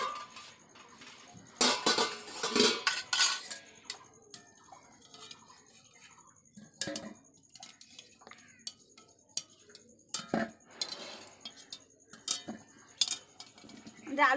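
Pot of boiled potatoes lifted off the stove, with clanks and clinks of metal cookware and utensils in irregular bursts, some loud and close, separated by quieter stretches.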